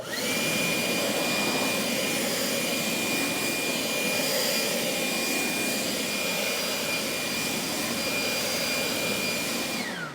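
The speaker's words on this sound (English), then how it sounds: "my Cobalt 480 CFM, 110 miles per hour, wider nozzle, obviously" A Kobalt 480 CFM leaf blower with a wider nozzle, rated at 110 mph, roars continuously while drying a car, a loud steady jet-like rush with a high whine that holds for about ten seconds.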